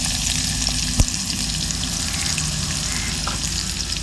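Steady, loud sizzling of chopped onions frying in hot oil in a clay pot, with a single sharp clack partway through and no talking.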